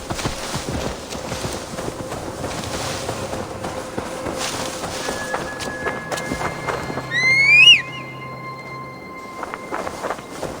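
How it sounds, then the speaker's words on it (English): In a video game, a horse gives one short neigh midway through, set against a low ambient rumble with a few faint thumps and tones. "Now to deliver Magni his horse"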